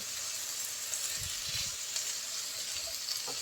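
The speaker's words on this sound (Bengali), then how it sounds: "এখন ভালো করে নেড়ে ছেড়ে সব কিছু একত্রে ভেজে নেব" Mou shim beans frying in a pan with turmeric and salt give a steady, fairly faint sizzle and hiss, with a few soft stirring bumps partway through and no voices.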